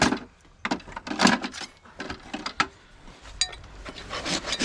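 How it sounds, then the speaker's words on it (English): A farrier rasps a horse's hoof level, producing repeated dry scraping strokes in uneven bursts, close and moderately loud, with no talk. "now to make sure the foot balance is level with rasp, make sure it falls right"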